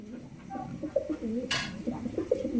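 Pigeons at a small farm in Gazipur coo repeatedly in low, rolling phrases, several birds overlapping close by, with a brief burst of rustling noise midway.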